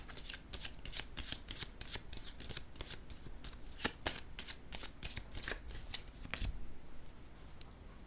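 Tarot-style cards are handled, shuffled and laid down during a reading, making a close run of quick, crisp flicks and soft slaps in an uneven rhythm.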